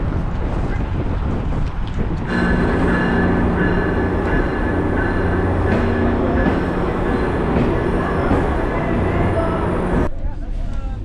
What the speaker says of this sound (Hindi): आपन देखि परिबे मो गो ट्रेन रे बसी जाइछि